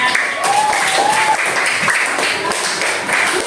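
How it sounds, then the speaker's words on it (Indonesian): Students in a classroom applaud a classmate with a sustained round of dense clapping at close range, with some high voices calling out over it. "Oke, tepuk tangan buat temannya."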